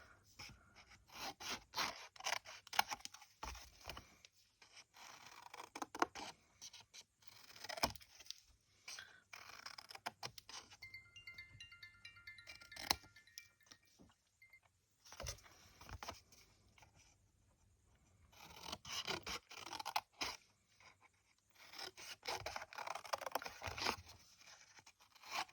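Scissors snip through paper to cut 2 cm tall tabs for a Halloween cauldron-shaped box, producing quiet, irregular bursts of cutting and rustling with short pauses between them.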